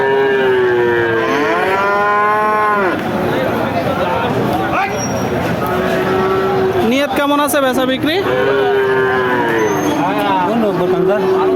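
Cattle bellow loudly at a busy livestock market where bulls are sold, several long wavering moos rising and falling close by, with people talking and crowd murmur underneath.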